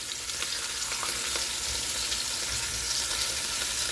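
Beef short ribs sear bone side up in a hot pan, a steady, even sizzle and crackle of frying fat running throughout at close range, with no talking.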